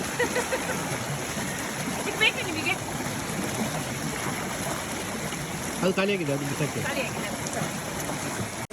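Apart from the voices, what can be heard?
stream flowing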